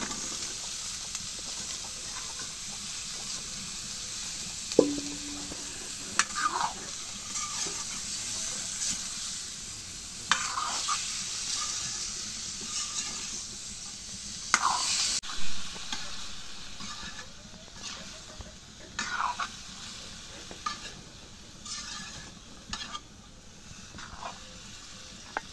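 Papaya is stirred and sautéed in a hot pan: a continuous hiss of sizzling with repeated bursts of scraping and clattering as it is turned, with no talk.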